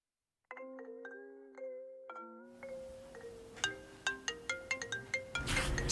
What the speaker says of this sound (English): Ah, the phone's waking up.